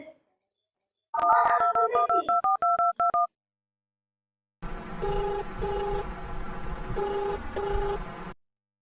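A telephone keypad is dialed in a quick run of about ten clear beeps, followed after a short pause by a repeating call tone over faint background noise.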